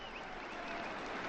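A crowd in Saint Peter's Square applauding Pope Francis during the Angelus, a soft, distant wash of clapping spread evenly throughout.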